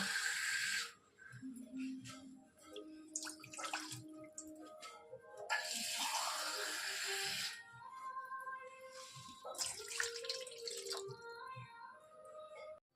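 Two cups of water poured into a bowl in a home kitchen, several quiet splashing pours with dripping between them, faint and close, with brief soft tonal sounds in the background.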